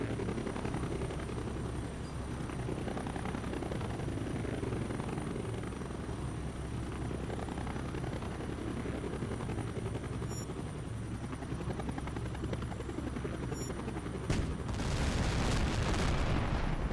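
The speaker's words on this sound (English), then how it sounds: "Heads up, we got enemy helos closing in." Enemy helicopters close in during an aerial combat mission in H.A.W.X 2, a steady loud rotor drone filling the scene with a low hum, swelling into a rushing burst near the end.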